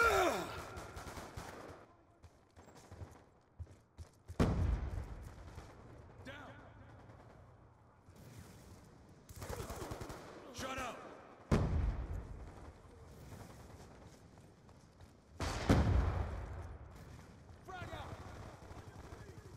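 Grenade blasts and gunfire in the Call of Duty 2 video game, several heavy broadband bursts spaced through the clip with busy battle noise and game voice callouts in between.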